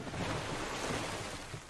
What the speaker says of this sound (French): Oh les vagues, tout ça, ça se déchaîne, l'orage